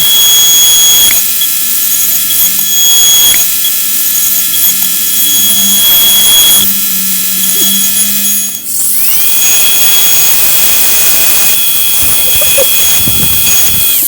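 High-speed rotary drill fitted with a quarter round burr tip, a loud continuous whine that shifts pitch several times, close and dominating throughout.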